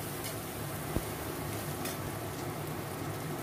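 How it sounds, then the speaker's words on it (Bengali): Onions frying with a little sugar in a pan, cooked for a potato and capsicum curry with poppy seeds; a steady, soft sizzle runs throughout with one brief tap of a utensil near the start. "চিনিটাকে মিশিয়ে নিয়ে পেঁয়াজটা আরও একটু ভেজে নেব।"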